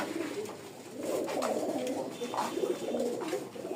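Several pigeons coo close by in a loft, with overlapping throaty rolling calls repeating steadily, moderately loud and without talk.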